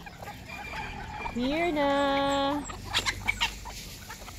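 Bantam chickens at feeding time in a countryside yard, with soft clucks and one drawn-out rising call in the middle, followed by quick short clucks, while a person speaks briefly nearby.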